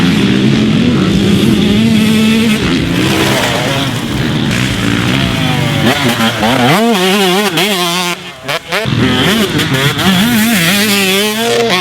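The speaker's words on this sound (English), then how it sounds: "Bike sounds amazing." A Pro Circuit–modified Husqvarna TC125 two-stroke motocross bike revs loudly and close, its raspy engine rising and falling through sharp throttle blips, with a brief drop-off before winding up again.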